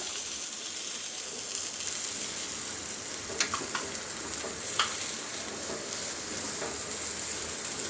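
Chopped cashews and raisins sizzle in hot frying oil, a steady close crackle with a few sharper pops and clinks scattered through, no talking.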